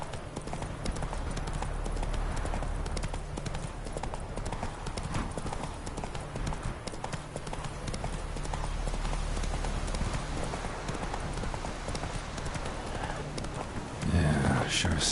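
Horse hooves from the horse Roach in the video game The Witcher 3 pound in a steady, continuous clip-clop gallop for the whole stretch, moderately loud, with a brief louder burst near the end.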